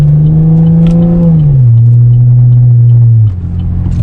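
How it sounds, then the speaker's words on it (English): From inside the cabin of a Chevrolet Camaro V6 fitted with an MRT V1 exhaust, a loud, steady, low exhaust drone holds, then drops in pitch twice as the engine note settles. "you can hear the exhaust from the inside of the car at times"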